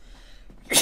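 A single short sneeze bursts out at the very end after near silence, close and fairly loud, with no speech in the clip.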